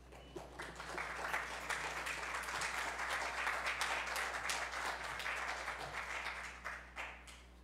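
A conference audience applauds, a dense, fairly faint patter of clapping that swells and holds for several seconds before thinning out.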